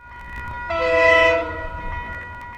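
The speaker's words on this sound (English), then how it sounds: "we stopped in Henuera to see DL 9792 pass by with train 491" Diesel locomotive DL 9792 passes hauling train 491 from Kinleith to Mount Maunganui at Henuera, sounding a loud sustained multi-tone horn blast that swells and fades over a low rumble of the moving train.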